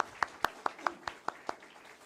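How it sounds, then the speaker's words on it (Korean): Sparse, evenly spaced hand claps at a church ordination service, about eight sharp claps in two seconds, fairly near and moderately loud in a quiet room. "권사님 차렷 인사 뜨거운 박수 부탁드립니다"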